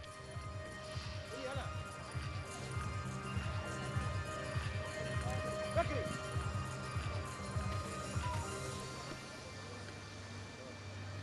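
A horse's hooves stride at a steady pace during an international show jumping competition, rhythmic clip-clop thuds repeating beneath an Arabic commentator's speech and a low background hum.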